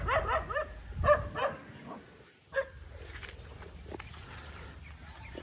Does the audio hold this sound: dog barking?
yes